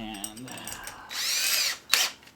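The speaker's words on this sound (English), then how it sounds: "the 13/16 bit back in this drill" A power drill fitted with a 13/16 bit bores into a Cessna 172F cockpit panel, giving a loud close whine that rises as it cuts, then stops briefly before a second short burst.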